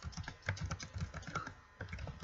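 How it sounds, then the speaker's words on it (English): Rapid, irregular clatter of computer keyboard keys being typed on, heard close and fairly quiet, in short bursts separated by brief pauses with no talking. "Everybody's just hearing the sounds of me clicking on keys."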